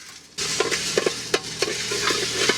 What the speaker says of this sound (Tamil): 30 கிராம் மிளகு வறுத்து எடுத்துக்கலாம்.